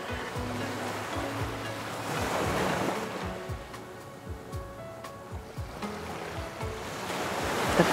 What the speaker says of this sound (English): watching the waves crash to shore.